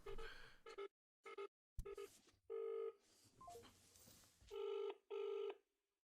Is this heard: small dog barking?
no